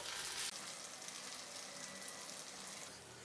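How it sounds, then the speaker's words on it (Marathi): A crispy sabudana fasting snack fries in oil in a pan, with a steady, close sizzle that hisses evenly throughout and no voices over it. "एक साइड फ्राय करून झाली की याला पलटून घ्यायचं आहे आणि दोन्ही बाजूने गोल्डन कलर येईपर्यंत याला फ्राय करायचं आहे"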